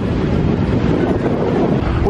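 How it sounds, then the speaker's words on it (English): Steady, loud wind buffeting the microphone on a boat trip to Klein Bonaire, a continuous low roar with no pauses. "it's a little windy"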